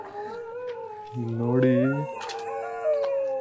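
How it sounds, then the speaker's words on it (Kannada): A dog howls in long wavering tones near an abandoned, reportedly haunted house in Bengaluru, rising mid-clip over a steady background while several people talk. "ನಾಯಿ ಸೌಂಡ್ ಅಲ್ವಾ ಬ್ರೋ ಫುಲ್ಲು?"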